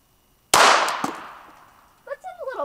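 A single sharp, loud shot from a Glock 42 pistol firing Winchester White Box FMJ ammunition cracks outdoors and rings off into a fading tail, followed by people talking.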